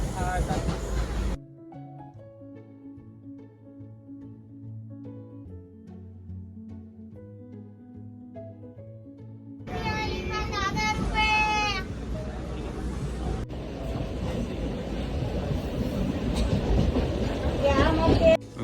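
A train rumbles and clatters through Roha railway station, loud and continuous, with voices nearby after a quieter tonal stretch at the start.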